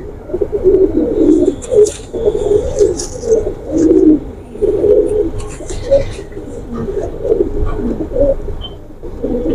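A nearby pigeon coos in repeated soft, throaty phrases with short pauses, loud and close, with faint background chatter and occasional higher chirps.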